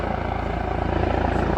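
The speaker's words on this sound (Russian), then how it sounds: "Вертолет, вертолет, ты не шуми так громко." Helicopter passing low overhead in the Harz mountains near rock megaliths, a loud steady rhythmic rotor chop filling the whole moment, with no talk.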